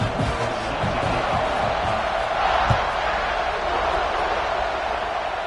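A large college football stadium crowd waits before a kickoff, making a steady, dense roar of cheering and chatter. The sound is distant and even, with a few brief shouts and thumps.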